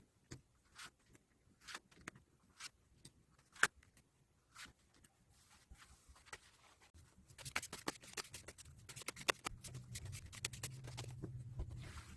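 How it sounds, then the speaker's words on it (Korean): Tarot cards being shuffled, heard as quiet, scattered taps and soft clicks that thicken into a denser, continuous riffling patter toward the end, close and faint with no talking. "그럼 카드 셔플 진행해 보도록 하겠습니다."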